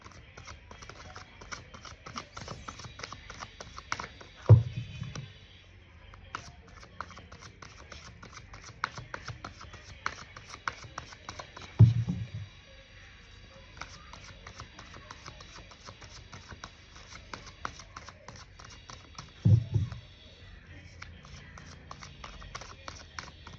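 Tarot cards being shuffled make a long run of rapid, soft papery clicks and riffles, with three heavier thumps spaced several seconds apart, all fairly quiet.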